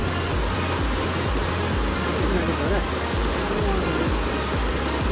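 Rain-swollen streams rush at Sundarijal with a loud, constant roar of water that fills the whole clip, and a faint low rhythmic thumping runs underneath.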